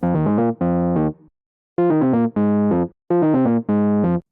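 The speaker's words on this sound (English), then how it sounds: "this electric keyboard style sound, like in a suitcase style keyboard" Suitcase-style electric piano synth plays several short chord phrases with a warm, slightly gritty tone, pausing between groups of notes; no voices.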